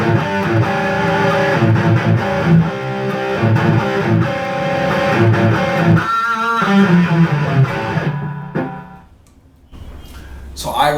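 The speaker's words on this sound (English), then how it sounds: "to me, that is a really good sounding distortion for a thing" Heavily distorted electric guitar through a Boss Power Stack distortion pedal plays loud, sustained chords and riffs, then cuts off briefly before a final crunchy strum.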